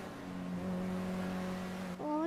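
A car driving in GTA V gives a steady engine drone that holds one pitch, then briefly dips and rises again near the end, with a voice talking over it.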